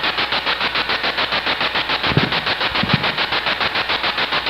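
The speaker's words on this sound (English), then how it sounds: "If I turn off the noise, will you talk to me?" A ghost-hunting spirit box sweeps through static with a fast, regular choppy pulsing, loud and close, while a couple of low thumps sound partway through and no one speaks.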